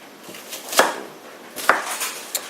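Yellow onion is roughly chopped with a knife on a cutting board, giving three sharp, close thuds spaced about a second apart, with soft slicing sounds between them and no talking.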